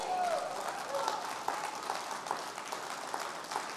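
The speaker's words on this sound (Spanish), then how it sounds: "Dale un aplauso a Jesús." A church congregation claps in a steady, dense round of applause, fairly distant and soft, lasting a few seconds without words.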